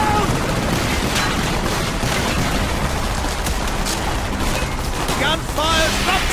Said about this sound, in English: Gunfire ruptured the canister!